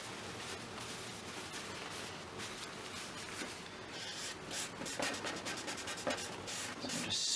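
Steady, close rubbing strokes smooth a decal's application paper during a Scott Bonnar 45 mower rebuild, a dry papery scrubbing that stays continuous and faint throughout.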